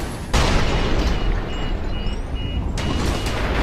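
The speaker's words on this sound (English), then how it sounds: "the rocket launcher" Rocket launcher in the F.E.A.R. 2 video game firing and exploding: a sharp booming blast near the start, then a sustained rumbling roar with a brief second burst near the end, loud and close, with no talk.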